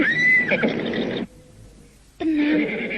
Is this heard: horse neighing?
yes